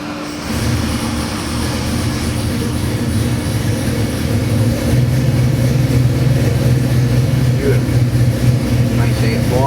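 A Ford 347 cubic-inch small-block stroker V8 crate engine idles steadily in a 1965 Ford Mustang, a loud, continuous low rumble that grows slightly stronger partway through, with voices talking faintly over it.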